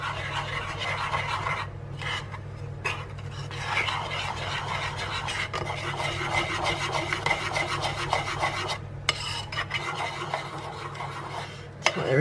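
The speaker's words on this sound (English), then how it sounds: "And then just mix everything together." Spoon rasping and scraping steadily through a thick oat mixture with baking powder in a bowl, a continuous close gritty rubbing that runs for the whole stretch with short pauses.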